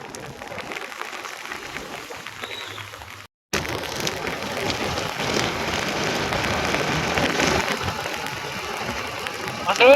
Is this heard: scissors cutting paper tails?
no